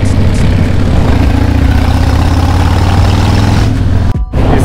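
A car engine fitted with a Castec exhaust system, loud and close, idling with a deep steady rumble and slight revs before a brief cut near the end, at the Faak gathering by Wörthersee.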